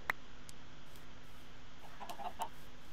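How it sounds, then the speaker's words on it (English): Minecraft chickens clucking, a sharp cluck at the start followed by a few faint, quick clucks near the end over a quiet game background. "Chickens."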